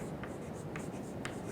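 Chalk or marker scratches across a board during a lecture, several short quick strokes spaced apart over a hushed room.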